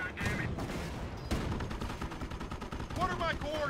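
Rifle squads firing in a Company of Heroes Normandy battle, dense continuous rattling gunfire with sharp cracks and a heavier burst midway, loud, with faint game voice chatter underneath.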